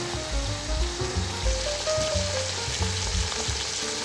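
Garlic-ginger paste with Sichuan pepper and mixed peppercorns fries in a kazan, giving a steady, moderately loud sizzle with soft crackles and occasional stirring knocks throughout.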